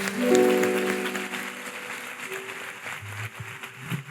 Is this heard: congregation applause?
yes